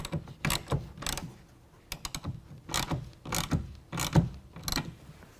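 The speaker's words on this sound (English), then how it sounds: "And then tighten that down with a 9/16 as well." Ratchet wrench with a 9/16 socket tightening a clamp for a BAK Revolver X4S truck bed cover on a Ford F-150 Lightning, close clicking strokes in short irregular bursts with brief pauses between them.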